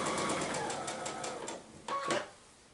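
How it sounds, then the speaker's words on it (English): Sewing machine stitching along the marked line of a quilt block, a steady fast whir with rapid needle clatter throughout, quietly recorded, with a slight burst of louder stitching near the end. "You're sewing on the line."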